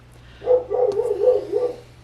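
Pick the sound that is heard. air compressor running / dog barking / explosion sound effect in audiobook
dog barking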